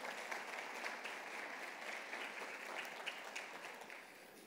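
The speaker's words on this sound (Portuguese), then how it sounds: "Você pode aplaudir Jesus por essa notícia boa?" A church congregation applauds during a Portuguese-language sermon, a dense, steady wash of many hands clapping that holds evenly throughout and fades slightly at the end.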